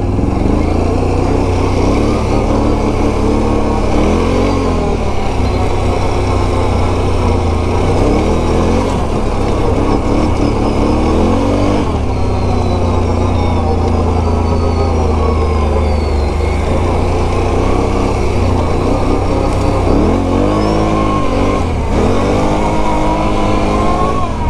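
Can-Am Renegade 1000 ATV running in sport mode with four-wheel drive engaged on Tusk Megabite tires, a loud, continuous engine drone rising and falling with throttle throughout the ride.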